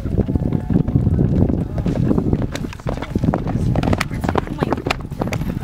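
Hooves clip-clop in a quick, uneven rhythm over wind noise, with voices faintly mixed in.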